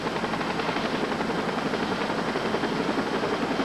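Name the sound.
helicopter arriving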